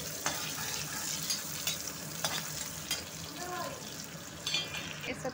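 Onions frying in hot oil in a pan for an egg curry, giving a continuous close sizzle with occasional light ticks of a spoon stirring through it.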